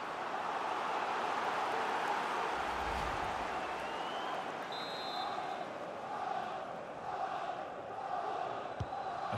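Stadium crowd noise from an EPL football video game, Arsenal versus Newcastle United: a dense, steady roar of many voices that stays loud and constant throughout, with slight swells.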